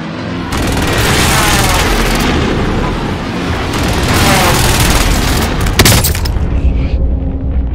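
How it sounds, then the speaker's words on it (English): Precision airstrike explosions in Call of Duty Warzone Pacific on Rebirth Island: a loud, sustained run of booming blasts and rumbling impacts, with a sharp burst near the end, amid dense game noise and some voice. "friendly precision airstrike inbound"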